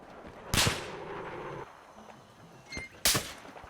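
Two sharp, loud sniper shots ring out in a 16v16 multiplayer shooter game, a couple of seconds apart, with quieter clatter and ambience between them.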